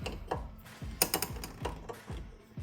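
A wrench clicks faintly in short rapid bursts while working on the brake lines of a 1981 Corvette, a quiet ratcheting repeated several times.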